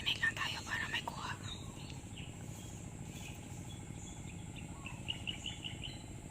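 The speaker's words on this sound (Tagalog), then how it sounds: "Maingay ang kuliglig doon no, kasi nag-ano sila. Nagkuliglig sa palayan." Crickets chirp in a rice paddy, a dense, steady high trill with scattered bird calls, running continuously beneath quiet whispered voices.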